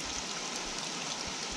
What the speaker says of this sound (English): It seems to be raining a bit.